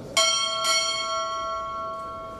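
A ship's bell is struck twice in quick succession at a U.S. Navy chief petty officer pinning ceremony, two bright ringing strikes whose tone lingers and slowly decays over a steady room hum, with no voices.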